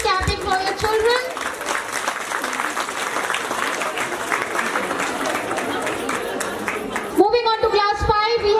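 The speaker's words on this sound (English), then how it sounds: "Parents, please keep clapping for your children." Parents and a crowd clap steadily for children at a school annual day celebration, sustained applause filling the hall, with a voice and announcer speech heard at the start and end.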